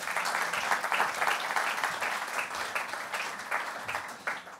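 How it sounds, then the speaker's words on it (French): Applause at a business leaders' conference in Avignon greets an arriving guest, with a lively, continuous round of clapping from the audience that swells and ebbs slightly before tapering off. "Vous pouvez l'applaudir, il nous rejoint."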